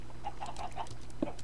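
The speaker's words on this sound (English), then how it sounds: "a giant crowd of chickens in a hole here." A crowd of chickens packed in a hole in Minecraft, clucking in a series of short, repeated calls at moderate volume over a low background hum.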